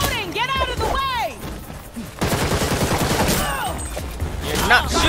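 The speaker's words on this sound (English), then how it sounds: "I'm shooting!" Rapid bursts of gunfire from the video game Gotham Knights, loud and close, mixed with whooshing effects and impacts, with a dense volley in the second half.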